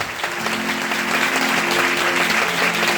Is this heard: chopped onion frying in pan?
no